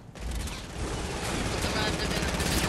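Sustained, dense gunfire in a Fortnite match, a steady rattling barrage that runs the whole stretch at moderate loudness after a brief quiet start.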